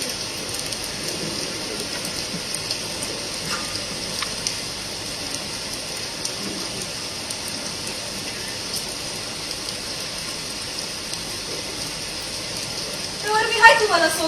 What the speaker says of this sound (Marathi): इतक्यात काय पाऊस थांबल वाटत नाही